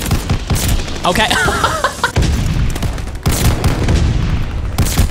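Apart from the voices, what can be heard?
shotgun fire in the video game Call of Duty Vanguard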